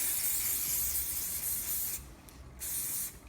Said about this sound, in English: And then we're going to give it a spray. Lots and lots of hairspray.